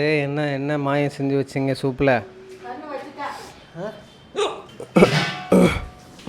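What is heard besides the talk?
hiccup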